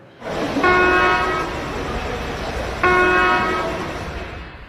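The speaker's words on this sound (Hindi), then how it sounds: "दो छोटे हॉर्न का मतलब है कि ट्रेन मेन लाइन पर खड़ी है और गार्ड सिग्नल मांग रहा है" An Indian Railways train horn sounds two short blasts, the signal of a train standing on the main line, each a loud, bright tone over a rumbling background of rail noise.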